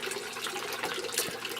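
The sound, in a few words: water running back into an aquaponics fish tank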